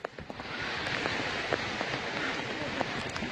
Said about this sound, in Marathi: पाऊस अजून चालूच आहे.